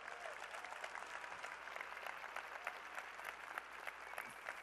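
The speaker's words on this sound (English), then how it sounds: "big round of applause" A large audience at a robotics competition's opening ceremony applauds in a continuous, even wash of clapping, heard as faint and distant throughout.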